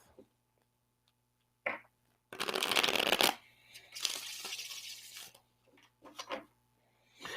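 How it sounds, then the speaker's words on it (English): Playing cards shuffled in two loud riffling bursts, a dense flutter and then a longer softer riffle, with scattered taps and light handling clicks between them in a quiet room. "Let's shuffle them up."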